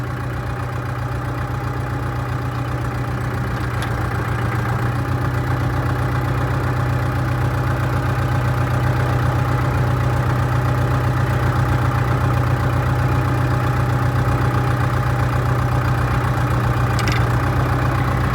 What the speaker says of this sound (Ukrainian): Отак повинен працювати дозатору трактора.